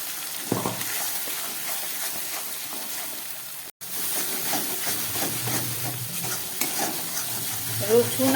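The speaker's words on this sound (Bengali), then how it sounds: "আদা রসুনের পেস্ট দিয়ে ভালো করে আমি এটাকে ভেজে নিলাম।" A paste of onion, ginger, garlic and green chilli frying in a pan for a rajma dish: a steady close sizzle broken by scraping stirs, with a brief dropout partway through.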